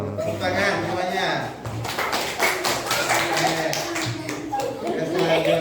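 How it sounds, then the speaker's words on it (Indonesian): Group clapping in an Indonesian classroom after a student's closing greeting, with sharp, scattered claps starting partway through and continuing over ongoing chatter and voices. "Tepuk tangan semuanya"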